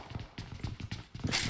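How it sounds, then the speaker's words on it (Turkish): Footsteps in PUBG Mobile, a quick run of soft thudding steps in an even rhythm, moderately close and fairly quiet, with a brighter scuffing burst at the end. "Ayak sesi geliyor da."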